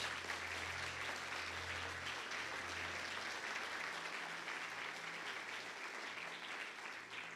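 Congregation clapping in a church service, a faint, steady wash of applause with a low hum underneath, continuing evenly for several seconds with no talking.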